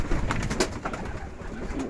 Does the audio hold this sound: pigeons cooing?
yes